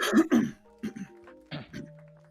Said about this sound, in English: So you're clearing your throat then.